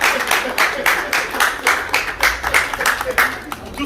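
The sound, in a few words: audience applauding at a wedding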